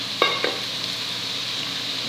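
Chopped spinach added to quinoa and ground beef frying in a pan gives a steady, fairly loud sizzle, with two quick scraping stirs near the start and no talk.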